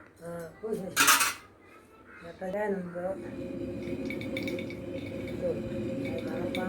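Pieces of urad dal pittu being stirred fly up and strike a metal cooking pot, making close clattering clinks and knocks over a steady scraping, stirring noise while people talk nearby.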